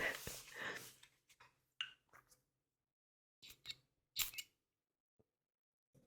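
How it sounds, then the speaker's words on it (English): A few short, sharp hissing bursts of a perfume spray, separated by pauses, following a stretch of nearby talking at the start. "I hope you could hear that. The spray."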